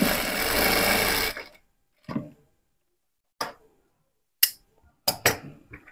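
A sewing machine whirs for about a second while stitching a child's half pant, then stops, followed by a few sharp, isolated clicks and knocks spaced through the silence.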